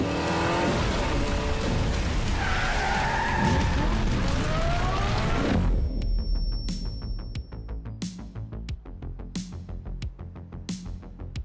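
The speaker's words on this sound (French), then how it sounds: "Sophia, on va devoir faire crisser les pneus." Hot Wheels toy car tires screeching in Hot Wheels City: a loud, sustained squealing skid for several seconds, then a run of sharp clicks and knocks.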